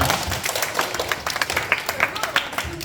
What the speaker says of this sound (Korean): 우리 박수로 이 친구들 하겠습니다